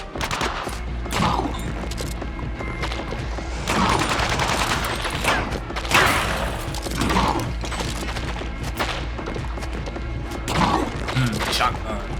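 Shotgun blasts in the umbrella-weapon shooter game Gunbrella, repeated heavy thumping shots at irregular intervals amid mechanical clatter, loud and near, while a player talks throughout.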